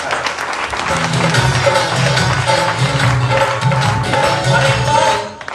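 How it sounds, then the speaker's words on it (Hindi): A crowd claps steadily and loudly for several seconds, the dense applause thinning out at the end, with music playing faintly underneath. "और एक बार दिल से तालियां होनी चाहिए"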